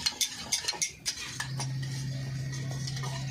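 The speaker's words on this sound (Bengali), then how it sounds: "কমলা লেবুর রসের সঙ্গে কর্নফ্লাওয়ারটা বেশ সুন্দর করে গুলে নিয়েছি" A spoon clinks and scrapes against a bowl several times while cornflour is stirred into orange juice, then the clatter stops and a steady low hum continues alone.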